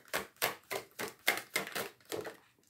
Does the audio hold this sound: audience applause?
no